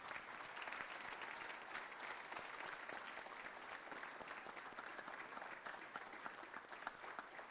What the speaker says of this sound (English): How about another round of applause for Mr.